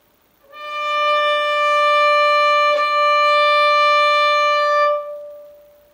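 A single sustained bowed violin note played with the third finger, steady and clear with rich overtones, held for about four seconds before fading out.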